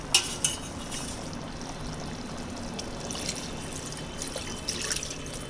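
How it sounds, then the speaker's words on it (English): Thin second coconut milk poured into a Kerala-style chicken stew thickened with mashed potatoes, a soft steady liquid wash with faint clinks of utensils against the pot, close and quiet. "Now we will add our thin coconut milk"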